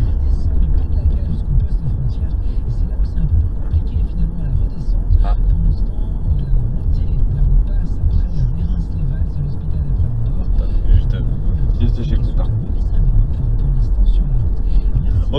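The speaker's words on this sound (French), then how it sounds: "c'était juste le trafic pour monter en Andorre" Road traffic climbs the route up to Andorra as a steady low rumble of passing cars, heard from inside a car under ongoing talk.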